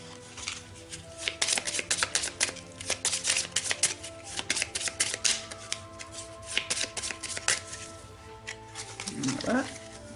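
A deck of oracle cards being cut and shuffled, with dense repeated riffling and flicking bursts running nearly the whole time, close and fairly loud, while a person talks over it.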